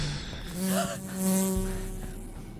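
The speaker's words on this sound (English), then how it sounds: "Some kind of bee or fly?" Insect buzzing, like a bee or fly, rises and falls over about two seconds in a video game, heard close and fairly loud over a low steady hum.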